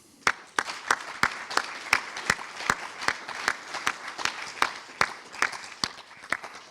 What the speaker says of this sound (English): So I think he deserves a round of applause.